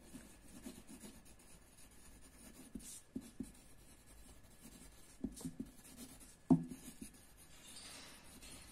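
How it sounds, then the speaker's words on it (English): Pen or pencil writing on paper in a school classroom, a soft continuous scratching rub with a few brief knocks, quiet and close, with no talk over it. "so at first we'll write the heading, different kinds of forest"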